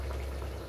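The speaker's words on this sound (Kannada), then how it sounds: "ನೀರು ಈ ಥರ ಕುದಿದ ತಕ್ಷಣ ಅಕ್ಕಿ ಹಾಕಿದ್ರೆ ಈ ಥರ ಅಕ್ಕಿನೂ ಕುದೀತಾ ಇರುತ್ತೆ" Water and rice boil together in an open pot on the stove, a dense, steady bubbling and simmering that stays close and even throughout the short moment.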